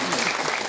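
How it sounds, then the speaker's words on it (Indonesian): A crowd at a rice aid handout event claps steadily for the village head. The applause is brief, dense and even, and it fills the whole moment. "Tepuk tangan lah untuk Pak Kades."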